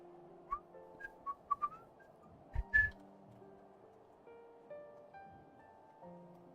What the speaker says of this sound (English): Jake, whistle directly into the microphone